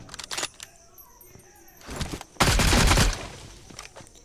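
Gunfire from PUBG, a battle royale shooter game: a few short bursts early on, a louder sustained volley in the middle, and sharp mechanical clicks between them.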